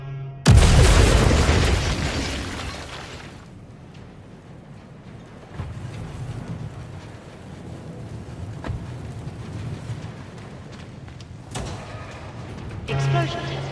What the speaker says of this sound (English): Explosion test commencing in 10, 9, 8, 7, 6, 5, 4, 3, 2, 1.